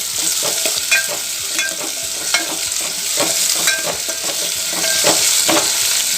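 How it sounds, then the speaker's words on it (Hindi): Capsicum frying and being stirred in a pan, with a steady close sizzle and repeated scraping stirs from a utensil throughout, no voices. "इसको हमें अच्छे से फ्राई करना है"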